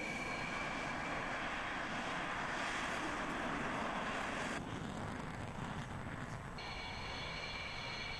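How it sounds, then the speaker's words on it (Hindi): Fighter jets including Tejas, Rafale, Mirage and Sukhoi roar steadily during a day-night air force exercise, a continuous, distant broadband engine rush with no speech. "डे नाइट युद्धाभ्यास में तेजस समेत राफेल, मिराज और सुखोई जड़ा लड़ाकू विमान अपनी ताकत दिखावेला।"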